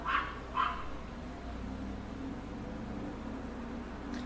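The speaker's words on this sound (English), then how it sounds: "I don't love that dog right now, but I do love dogs." A dog barks twice in quick succession near the start, fairly close and loud, then a quiet indoor room tone continues with a faint final yip at the end.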